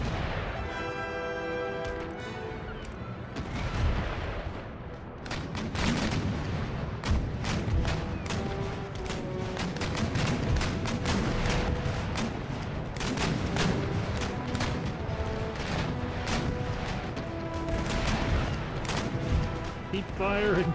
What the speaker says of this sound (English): You're going to keep pummeling round shot into that cluster of ships.